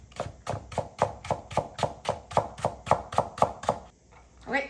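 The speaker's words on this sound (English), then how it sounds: "I'm just gonna keep chopping" Rapid, regular knife chops through turnip on a cutting board, around fourteen even strikes close by, then a short pause and a final scrape.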